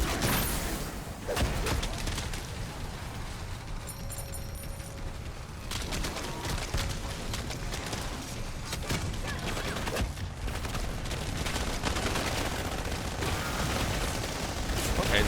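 Rapid gunfire from the top-down zombie shooter Dead Ops Arcade 4, a dense continuous barrage of shots and booms lasting throughout at steady loudness, with no speech over it.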